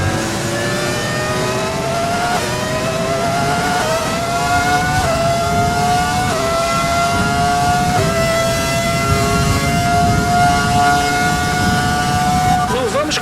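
Ferrari F2004 Formula 1 engine revving at Monza in heavy rain in the F1 2020 game, a loud screaming whine that climbs and drops through repeated gear shifts, with a voice talking over it.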